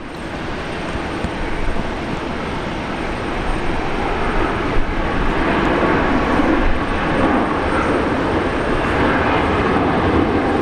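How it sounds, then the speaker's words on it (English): Boeing 737 MAX 8 jet airliner arriving at Brisbane Airport from Sydney, a steady broadband engine roar that holds loud and continuous throughout, swelling slightly in the middle, with no talk over it. "that's a Maxi, 737 MAX 8. Just arrived from Sydney."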